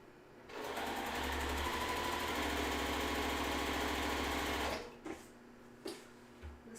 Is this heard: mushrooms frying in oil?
no